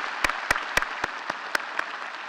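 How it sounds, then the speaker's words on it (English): Audience applause at a university State of the University address, heard as a short, fairly faint burst of scattered individual claps with a few sharper distinct hits, no talking over it. "Please join me in giving them a hearty round of applause."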